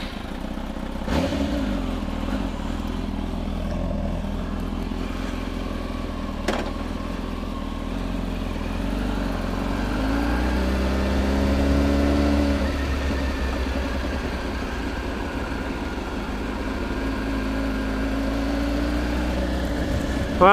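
A 2007 Kawasaki ZX10R sport bike engine on a test ride, a steady droning hum that rises and swells midway as the rider accelerates, loud and continuous with no talking.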